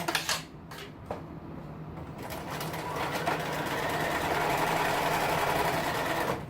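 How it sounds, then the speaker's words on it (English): A sewing machine stitches around a heavyweight fabric tab for a Halloween costume, starting with a few short bursts and then running in one steady, close whir to the end. "I'm going to make a nice tab by stitching all the way around this"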